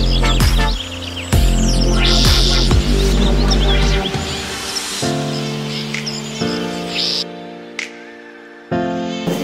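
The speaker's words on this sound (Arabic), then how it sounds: "وسماع صوت العصافير" Bird chirps and tweets come in short bursts over a steady layered hum, loud up close and shifting as the background tone changes.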